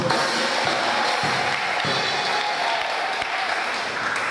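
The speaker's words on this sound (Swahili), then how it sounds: "Hebu mshangilie kwa makofi" Steady applause from a congregation at a church wedding blessing ceremony: dense, continuous clapping that holds at an even level for several seconds, with no voices.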